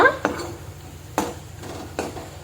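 A spoon stirs spice powders into a date pickle in a metal pan, with three distinct scraping, clinking strokes spaced about a second apart over a soft background hiss.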